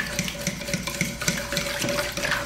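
Soy sauce and sugar marinade for beef jerky being mixed in a bowl, with a rhythmic swishing and light clinking of a utensil against the container, close and even over a faint background hum.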